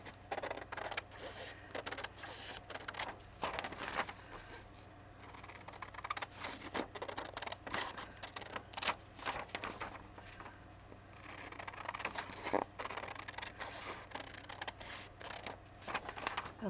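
Scissors trim paper for an art journal in a stream of quick, faint snips and rustles, close and quiet, with small pauses between bursts of cutting.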